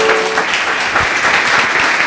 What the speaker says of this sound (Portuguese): Louve a Deus com as suas palmas bem fortes.